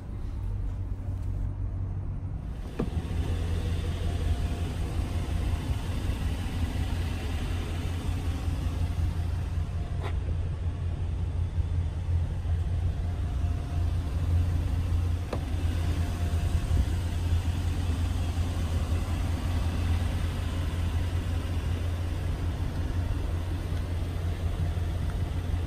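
A 2020 Chevrolet Silverado 2500HD with a 6.6-liter gas V8 idles. After a quieter opening few seconds, a steady, low, even rumble runs continuously with no voices over it.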